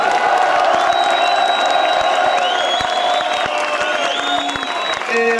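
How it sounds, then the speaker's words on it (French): A large crowd at an event applauds loudly with cheers and whoops, a sustained, dense roar of clapping mixed with shouting voices throughout. "Alors applaudissez-le encore une fois."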